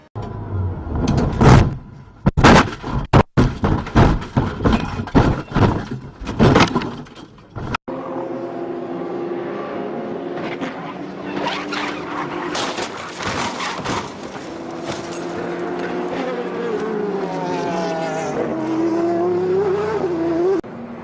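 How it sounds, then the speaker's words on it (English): A race car that has lost its right rear tire crashes, landing hard and digging in, with a burst of sharp, heavy impacts and crunches followed by a long stretch of engine roar and rising tire squeal. "His right rear tire came off. Car goes airborne, then when it hits the ground, it digs in and just rips it apart."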